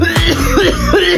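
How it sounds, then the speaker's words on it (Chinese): One person coughs loudly and close by, producing a short burst of a couple of harsh coughs. "我好像能一直咳嗽"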